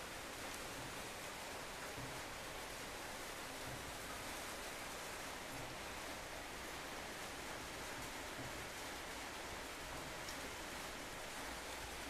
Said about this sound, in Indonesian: Pekan baru hujan